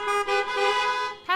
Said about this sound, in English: We even have some honks for amens going on